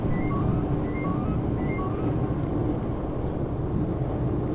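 Cab alarm in the Open.BVE train simulator on a refurbished 1995 Stock Northern Line train, a repeating two-tone beep sounding steadily over a dense, rumbling train-running background.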